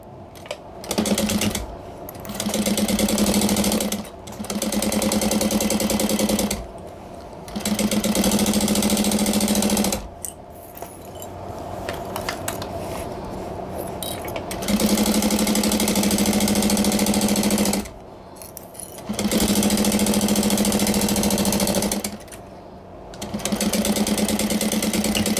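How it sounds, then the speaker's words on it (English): A sewing machine back stitches a tote bag seam in repeated loud bursts of fast whirring, each running a couple of seconds and separated by short pauses as the fabric is turned and repositioned. "Back stitching at the beginning and end, and then I'm going to go to the bottom."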